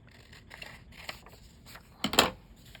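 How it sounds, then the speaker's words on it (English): A small white strip of paper is cut with scissors in several quiet snips close by, the last cut louder and sharper than the ones before it. "I'm just going to cut that little white strip off up here"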